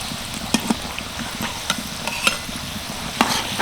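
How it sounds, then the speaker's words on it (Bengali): Twist rolls fry in oil over a medium flame, giving a steady close sizzle with scattered sharp pops and crackles and no voices. "আর এই টুইস্ট রোলগুলো ভাজার সময় কিন্তু আঁচটাকে মিডিয়ামই রাখতে হবে"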